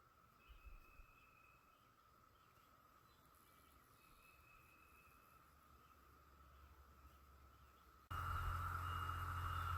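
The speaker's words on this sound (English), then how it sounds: "Standing outside, we can hear the cicadas." Cicadas buzz outdoors on a hill, a faint steady high drone that runs throughout against quiet ambience, then swells much louder and harsher near the end.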